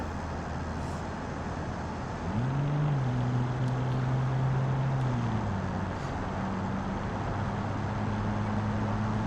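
A car engine in the Automation driving game hums at low revs under 2000, its pitch rising briefly and then holding steady as a smooth, continuous drone with no talking.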